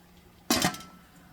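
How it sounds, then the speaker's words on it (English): Glass canning jars for strawberry jam are set into a boiling water bath canner, producing a single sharp clink and clatter of glass against metal, with faint bubbling in the background. "Our water bath canner is boiling, so we're ready to put the jars in."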